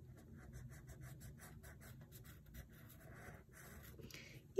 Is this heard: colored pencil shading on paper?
yes